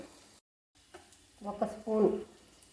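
Okra fries in a pan, giving a soft sizzle with brief stirring scrapes that swell into louder bursts near the end after a short silent gap.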